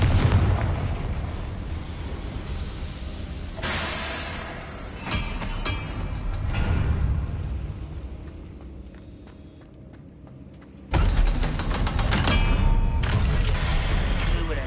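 Confringo fire spell explosions in the video game Hogwarts Legacy, loud booming blasts with metallic clangs and crackling debris, a quieter stretch in the middle before another heavy burst near the end.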